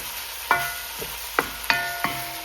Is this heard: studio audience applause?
no